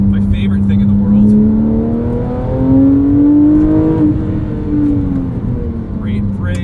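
A 997.1 Porsche 911 GT3 engine revs while driving on a canyon road, its loud, continuous harmonic drone rising and falling in pitch throughout.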